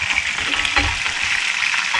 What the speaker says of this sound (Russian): Я так понимаю, лук, судак жарим, да?